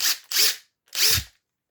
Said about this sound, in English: the sound of that motor, it says quality to me. Very, very clean sound.